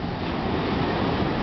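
Ocean surf washing onto a California beach on a sunny day, a steady broad rush of breaking waves with some wind buffeting, continuous and fairly close with no talking.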